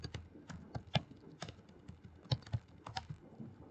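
Java code is typed on a computer keyboard: a quiet, uneven run of separate key clicks, with a couple of sharper strikes standing out. No one speaks.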